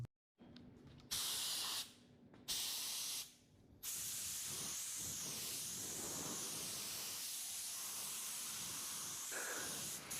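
A spray gun lays pearl paint coats onto a car during DIY auto body repair, a loud close hiss that starts and stops in two short bursts before running as one continuous spray.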